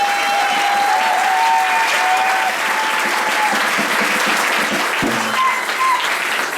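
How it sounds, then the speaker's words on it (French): A church congregation claps steadily and loudly throughout, dense sustained applause filling the hall without a break. "Acclamez franchement pour cette personne."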